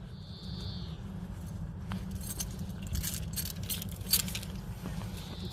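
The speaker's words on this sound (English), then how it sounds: "So I'm going in my pocket. Just car keys." Car keys jangle faintly in short bursts of metallic clinks as they are pulled from a trouser pocket, over a low background hum.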